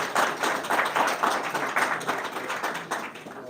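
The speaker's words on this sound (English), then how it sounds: "Let's give him a big round of applause." Audience applause for a speaker at a podium during a congressional briefing: a close run of brisk, fairly rhythmic hand claps that tapers slightly toward the end.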